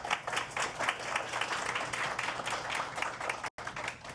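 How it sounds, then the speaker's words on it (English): Audience at an open government forum applauding, a dense steady patter of many hands clapping, moderately close, with a sudden brief cutout near the end. "Round of applause."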